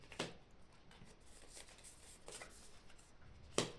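Tarot cards drawn from a deck and laid out one at a time during a reading, giving faint papery slides and soft flicks with a sharper snap near the end, quiet and close with no talking.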